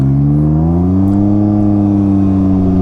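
A Can-Am Ryker three-wheeler engine, running with a disabled vehicle speed sensor, is revved hard at full throttle: a loud, close, steady drone whose harmonics climb slightly and then hold, with no speech.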